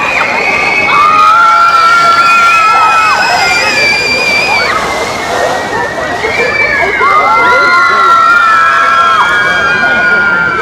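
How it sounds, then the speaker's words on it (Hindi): Children shout and cheer loudly at a water fountain in Tashkent, a dense, continuous crowd of high voices over the steady splash and slosh of water. "वो जो बच्चे अभी चिल्ला रहे हैं"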